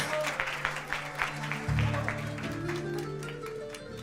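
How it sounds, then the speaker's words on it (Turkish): A crowd claps steadily, a dense patter of applause that carries on throughout, with a low hum underneath. "Hüseyin Badem alkışlıyoruz."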